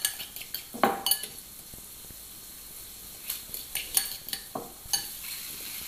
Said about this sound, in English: Mix it up nice and well, try and get rid of any lumps